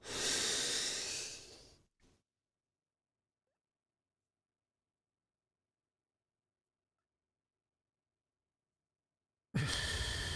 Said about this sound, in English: We're going to breathe in, one big, very deep breath.